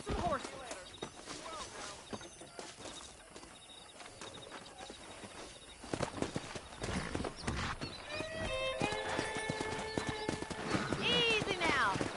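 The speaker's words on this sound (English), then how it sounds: "Let's see if we can't wrangle some horses." Horses clip-clop with repeated hoofbeats and neigh loudly in a Western video game, with bright whinnies rising in the second half over a busy outdoor bed of birdsong and voices talking.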